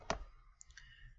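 A single sharp computer mouse click while working in the Scratch programming environment, close and crisp, followed by faint soft ticks in an otherwise quiet room.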